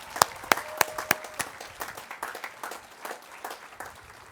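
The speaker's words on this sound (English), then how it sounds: "Give them one more round of applause, would you please?" Graduation audience applauding outdoors, a dense spread of many hands clapping with a few sharp, louder claps up front early on, the crowd sound thinning and fading toward the end.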